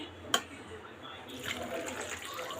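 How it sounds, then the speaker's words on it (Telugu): Water splashes and pours briefly into a mixer jar after a sharp clink, then continues as a soft, uneven trickle. "నేను ఒక గ్లాస్ వాటర్ వేసాను ఫస్ట్ ఒక గ్లాస్ వాటర్తో మిక్సీ పట్టుకుందాం"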